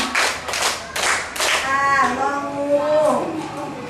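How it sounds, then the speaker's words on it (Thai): Children at a summer camp clap their hands in a short series of sharp claps near the start, followed by someone speaking with a sing-song voice. "ปรบมือสี่ครั้ง"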